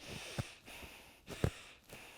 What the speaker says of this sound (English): If you're breathing like this